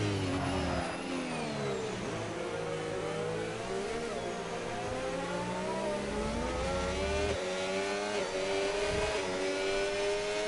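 Formula 1 cars, including two Ferraris, race at the Abu Dhabi Grand Prix in the F1 25 video game, their engines whining loudly and continuously with rising and falling pitch sweeps through gear changes.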